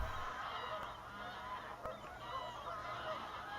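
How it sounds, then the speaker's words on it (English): A large distant flock of greylag geese mixed with some Canada geese, honking continuously in an overlapping, faint chorus outdoors on an autumn morning. "One of the spectacles of autumn and winter, these huge flocks of geese."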